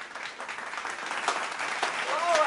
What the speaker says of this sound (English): Sounds like we have a great crowd out there